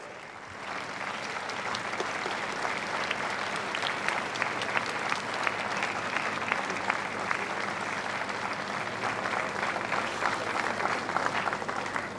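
An outdoor crowd at Zahrebenie applauds paratroopers and operators landing with flags, giving steady, sustained clapping that stays even and continuous from start to finish.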